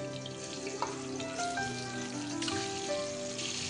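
Cut boiled eggs fry in salted oil in a pan on low flame for a spicy egg masala curry, making a soft, even sizzle with light crackles and a few faint clinks over quiet background tones.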